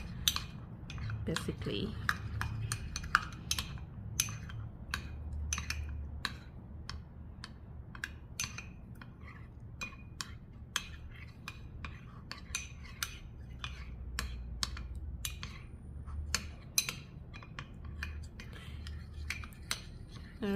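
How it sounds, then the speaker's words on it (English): A utensil scrapes and clinks against a bowl while stirring flour and water into a watery paste, with quick irregular ticks throughout and a voice speaking briefly. "stir to make a watery paste"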